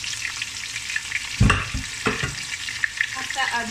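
Onions frying in a pan with ginger and garlic for vegetable stew, a steady bright sizzle with a burst of louder scraping stirs near the middle, close and alone without talk.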